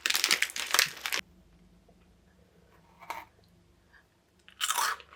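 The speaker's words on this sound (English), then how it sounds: "This is a puffy cracker that's supposed to be quite savory and tasty." A savory, puffy Japanese cracker snack crunches loudly in close, crisp bites, with two bursts of crunching at the start, a softer bite midway and another loud crunch at the end, separated by quiet gaps.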